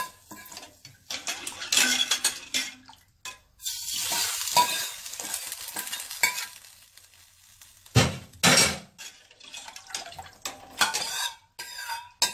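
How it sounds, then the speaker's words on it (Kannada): A hot tempering with garlic is poured into raw mango rasam and stirred, giving bursts of sizzling alongside clinks of a metal ladle and pot, close up with quiet gaps in between. "ಈ ಒಗ್ಗರಣೆನ ಈಗ ರೆಡಿ ಮಾಡಿ ಇಟ್ಕೊಂಡಿರುವಂತಹ ಸಾರಿಗೆ ಹಾಕೋಣ."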